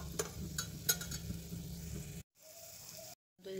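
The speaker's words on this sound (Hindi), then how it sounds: "अल्हम्दुलिल्लाह लहसुन अदरक अच्छे से फ्राई हो गए हैं।" Garlic and ginger fry quietly in a pan with a soft, even sizzle and light stirring clinks, broken by two short stretches of silence.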